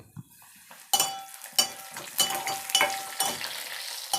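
Chicken pieces dropped into hot oil in a pan for a buttermilk curry, sizzling and frying with sharp crackles and pops that build after the first second, plus faint clinks of utensils, close and fairly quiet, with no talk.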